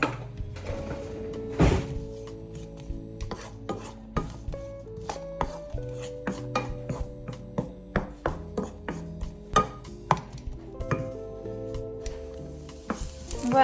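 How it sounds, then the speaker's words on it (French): Celery sautés gently in olive oil over low heat, giving a soft, steady sizzle broken by frequent clinks and scrapes of stirring against the pan, with faint background tones throughout. "après avoir mis l'huile d'olive, on fait revenir le céleri une dizaine de minutes à feu doux"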